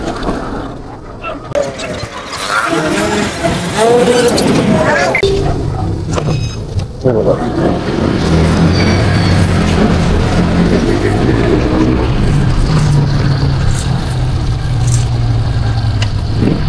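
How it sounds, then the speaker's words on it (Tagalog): Busy city traffic in Dipolog City rumbles steadily from close range, with engines idling and revving, passing vehicles and a continuous low drone, while someone talks over it in the opening seconds. "Ang traffic na yung lugar."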